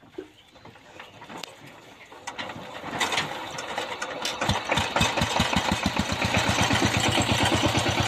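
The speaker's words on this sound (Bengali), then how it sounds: "অনেক সুন্দর ইঞ্জিনের সাউন্ড।" A 24-year-old Saifing company car engine cranks and catches, then settles into a steady, rhythmic idle that grows louder and fuller, heard close up with no talking.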